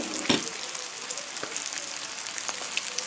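Fish frying in peanut oil gives a steady, close sizzle with fine crackles and a sharp pop near the start, with no talking over it.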